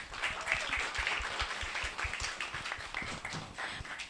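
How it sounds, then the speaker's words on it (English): Listeners at a best first book awards ceremony give a finalist a warm round of applause, a soft, even patter of clapping that stays faint and distant throughout. "let's give a warm round of applause"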